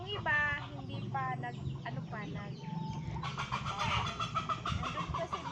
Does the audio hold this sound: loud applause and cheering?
no